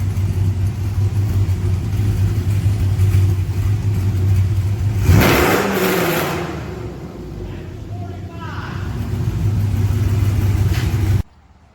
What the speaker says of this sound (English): this is outside sound test of the DynoMax race bullets